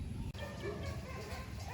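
A dog at an elephant sanctuary gives a few soft yips and whimpering barks, fairly faint amid busy outdoor background noise.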